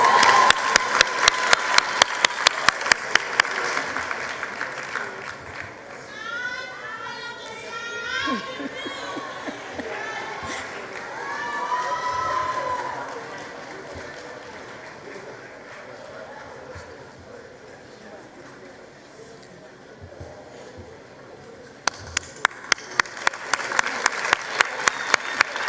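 An audience at the 2023 matric results announcement breaks into loud, rapid applause that fades under a speaking voice, then swells again into a fresh burst of clapping near the end.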